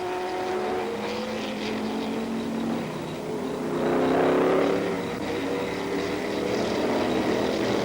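1970s Formula One race cars, including a BRM, racing on a circuit: a continuous engine drone from a distance that rises and swells as a car nears around the middle, then settles back, with no voices.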